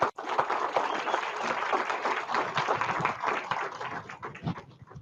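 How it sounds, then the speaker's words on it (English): An audience applauds after staff are introduced at a college in-service gathering, a steady dense clapping that holds for several seconds before tapering off near the end. "Would you give those guys a round of applause,"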